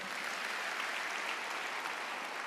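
Dense, even applause from a church congregation at Bethany Nginden during a sermon, a continuous wash of many hands clapping at moderate level with no voices over it.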